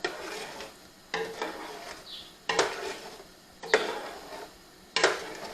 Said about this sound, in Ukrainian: Все це перемішуємо.